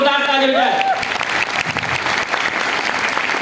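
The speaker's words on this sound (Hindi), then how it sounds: "हम चाहेंगे एक जोरदार ताली बजाएं" Loud audience applause at a business event, a dense burst of many hands clapping that follows a voice at the start and continues steadily to the end.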